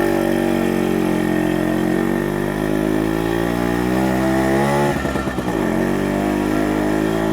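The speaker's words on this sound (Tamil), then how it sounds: "நோட் கேளுங்க, ஷார்ப்பாக இருக்கும் எக்ஸாஸ்ட் நோட்." A motorcycle with a sharply tuned exhaust idles loud and close with a steady buzzing note, then gives a quick blip of the throttle and falls back to idle.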